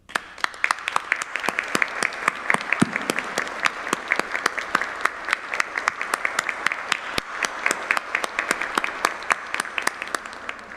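Sustained applause from a crowd at a Spanish-language government announcement, dense rapid clapping holding steady at a moderate level for about ten seconds with no talk over it.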